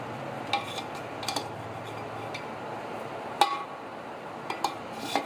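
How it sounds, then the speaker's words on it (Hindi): Metal serving utensils scraping and clinking against a pot and plates while Karachi chicken biryani is dished out, with sparse irregular taps and one sharper clink midway. "अब इसे हम डिश आउट करते हैं"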